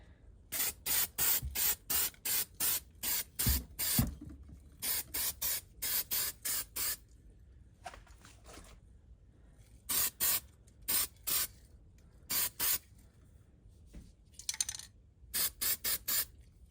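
Spray can coating an FPV drone frame neon orange inside a box, heard as a rapid series of short, sharp hissing bursts in tight rhythmic groups separated by brief pauses, close and fairly quiet.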